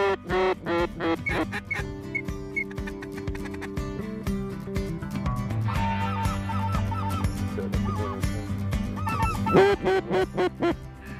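A dense flock of snow geese and other waterfowl calling over a flooded rice field, continuous overlapping honks and quacks, loud and close with steady layered chatter throughout.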